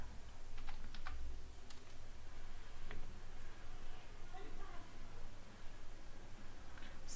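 Typing on a computer keyboard while building a Bootstrap web page, a steady run of quiet clicking keystrokes under a faint background hum.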